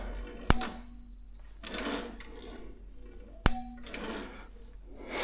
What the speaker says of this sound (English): I want to show you the bell.